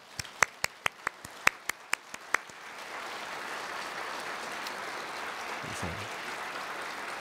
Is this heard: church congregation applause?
yes